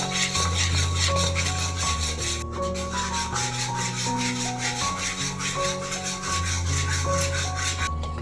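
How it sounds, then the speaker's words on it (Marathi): Turmeric stirred in hot oil in a pan while making thin poha chivda gives a steady, close scraping sizzle that runs the whole time over a constant tonal background. "बघा मस्त तेलामध्ये हळद परतून घ्यायची"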